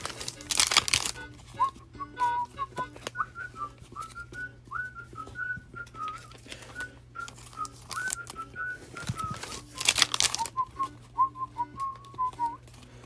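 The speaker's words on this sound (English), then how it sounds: "I shouldn't be whistling into the microphone" A melodic tune whistled into a microphone in a card shop, close and fairly steady, with a few sharp rustling bursts near the start and again toward the end.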